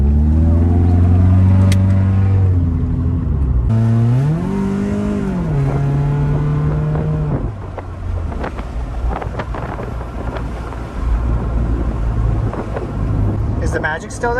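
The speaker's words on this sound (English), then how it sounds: "It runs a whole lot better than the first time I drove it, but it still breaks up quite a bit" A Honda Integra DB1 engine revs under way, its note rising and falling and stumbling as it breaks up, loud and close inside the car with wind noise, and someone talks over it throughout.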